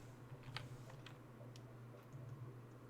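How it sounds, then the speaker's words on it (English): Computer keyboard typing during a Minecraft Vanilla Skyblock session, a few faint scattered clicks and taps over a low steady hum, quiet and sparse with no talking. "Still hear my keyboard and such."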